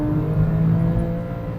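A 2009 Porsche 911 Carrera S with a muffler delete, in Sport Plus mode with PDK, holds a steady loud engine drone with a brief swell, close and continuous with no talk.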